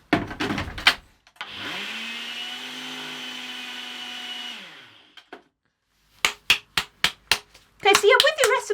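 A small electric grinder grinds citric acid, whirring steadily for a few seconds, then spins down, followed by a series of sharp knocks and tapping sounds.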